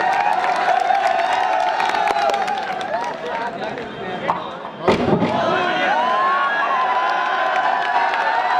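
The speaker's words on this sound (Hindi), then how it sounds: "जोरदार तालियों के साथ सलमान रहबर का इस्तकबाल कीजिए" A mushaira crowd at a Kul Hind poetry gathering on Tibba Road, Ludhiana, cheers, shouts and claps loudly and continuously, with voices calling out throughout and a brief thump midway.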